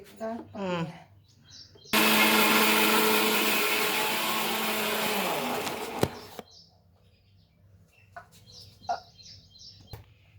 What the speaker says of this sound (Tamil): மசாலா ஆட்டியாச்சு. நைஸாக தான் ஆட்டி வச்சுக்கணும்